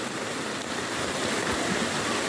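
River water rushes in a constant, dense roar close by, a strong steady flow with no pauses.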